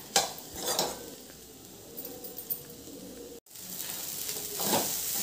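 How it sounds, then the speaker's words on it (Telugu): Schezwan fried rice is stirred in a hot pan, with soft scraping and tossing strokes over a faint sizzle, close and intermittent with a brief clatter. "ఇది ఇప్పుడు కలుపుతున్నాను కదా"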